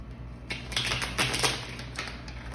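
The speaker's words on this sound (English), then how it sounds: "So let's give it a good shuffle." Tarot cards being shuffled in a card reading, a run of soft papery riffles and taps across a couple of seconds, fairly quiet and close, with no voices.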